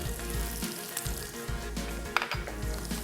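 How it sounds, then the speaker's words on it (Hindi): Red chilli, carom seeds and garam masala frying in a pan give a continuous close crackling sizzle with occasional light pops and stirring scrapes, loud and steady throughout. "मसाले को अच्छी तरह से भूनना है।"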